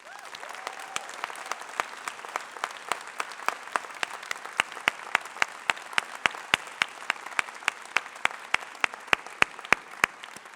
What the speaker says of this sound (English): would you join me, please, in giving a round of grateful applause to your faculty?